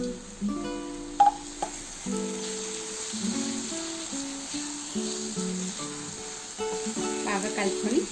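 Carrot halwa with added dry fruits is stirred in a pan on the stove, giving a soft continuous sizzle with faint scraping, under a voice and a musical background.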